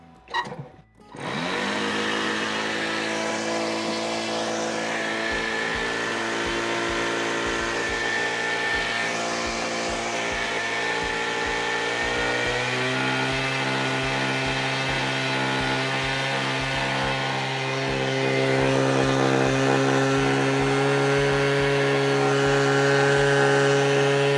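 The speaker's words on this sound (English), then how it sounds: "Let me open up the throttle just a little bit" A nitro RC plane engine starts with a brief sputter, then settles into a loud, steady, buzzing drone close by. Its pitch steps up partway through as the throttle is opened, and it stays at full volume to the end.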